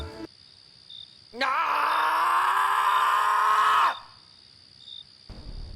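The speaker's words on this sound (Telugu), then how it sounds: "రెండు నిమిషాల తర్వాత కరణ్ వెళ్ళిన వైపు నుండి ఒక అరుపు వచ్చింది" A single long, drawn-out scream rings out from a night forest in a horror story, loud and sustained for about two and a half seconds, with faint insects chirping before and after.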